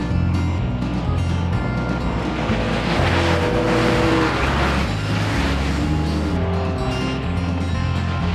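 Stock car engines roar continuously on an ice racing track, a dense, steady wall of revving motors from cars circling nearby with no pauses.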